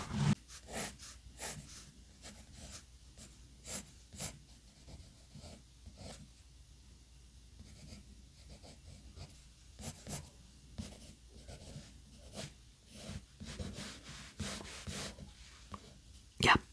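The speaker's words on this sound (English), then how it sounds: "I'll just be drawing in front of you." A pencil sketches a portrait on paper in soft close scratches and strokes, irregular dabs and longer scribbles spread throughout, quiet and intimate, with faint breathy sounds now and then.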